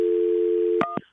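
An outgoing telephone call carries a steady ringback tone that holds for most of a second, then breaks off into two short bursts of a changed tone, heard alone with no talk.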